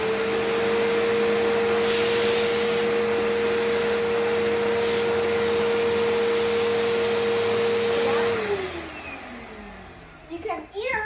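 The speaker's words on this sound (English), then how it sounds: "So you vacuum it like this" A Bissell POWERgroom bagless vacuum cleaner with crevice tool runs steadily with a constant high whine, picking up coffee grounds, then switches off and winds down near the end, followed by faint handling noises.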